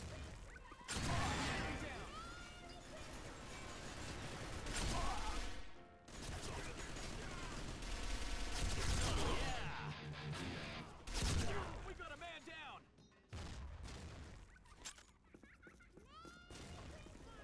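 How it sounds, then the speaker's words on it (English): Grenade explosions and bursts of gunfire from a video game set in arctic combat, with loud dense blasts and crashes running almost continuously, briefly dropping out around six and thirteen seconds, as a voice talks over the chaos. "So many grenades everywhere, man."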